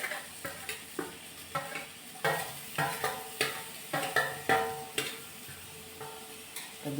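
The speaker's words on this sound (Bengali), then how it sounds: "এবার আমি এতে তেলের ভেতরে আমগুলো দিয়ে দিচ্ছি।" Mango pieces for chutney fry in hot oil with a continuous sizzle, broken by repeated scraping stirs of a spoon against the pan, close and fairly loud.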